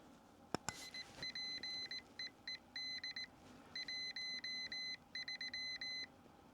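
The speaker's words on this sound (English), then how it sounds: "the keyer is going to speak to you in CW" Morse code (CW) beeps from a Pico keyer, an add-on for a Xiegu G90 radio: a steady tone keyed into short dits and longer dahs in rapid groups, faint over low background hiss after a couple of clicks.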